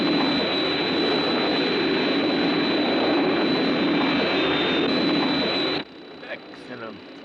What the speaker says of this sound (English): I hear an aircraft.